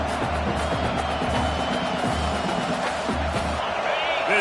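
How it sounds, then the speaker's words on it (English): Crowd noise from an NCAA 26 college football video game during a game at Clemson, a continuous roar of cheering swelling steadily under the play, with a broadcast-style hum beneath it. "This crowd rising up, sensing that its defense needs some help"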